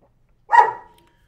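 A single sharp dog bark rings out close by during a live board game session, one short loud burst in an otherwise quiet room.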